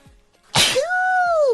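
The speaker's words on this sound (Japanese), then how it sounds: "あ、くしゃみ出そう。" A single sharp human sneeze bursts out abruptly after a brief quiet gasp, loud and close, followed by a sustained vocal tone trailing off.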